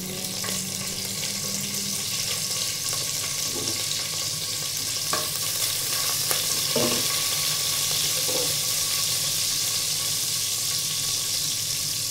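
Fennel seeds, dried chillies and cardamom sizzle steadily in hot oil in a pan, a constant bright frying hiss with a few soft clinks of stirring.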